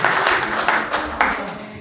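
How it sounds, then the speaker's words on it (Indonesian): An audience at a senior high school's in-house staff training in Indonesia gives a short round of applause, many hands clapping briskly for under two seconds. "Tepuk tangan dulu lah untuk Pak Medi ini."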